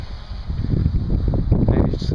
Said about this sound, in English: It's a little bit windy this morning.